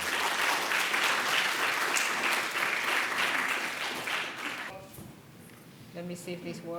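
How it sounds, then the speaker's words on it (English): A conference audience gives warm, sustained applause welcoming a panel speaker to the stage, then the clapping dies away into faint room noise with a few brief tonal sounds near the end. "please give another warm round of applause"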